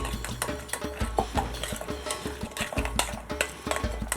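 A spoon stirring yogurt chicken kebab marinade in a bowl, wet slapping and scraping strokes with clinks against the sides, coming in an uneven quick rhythm close up.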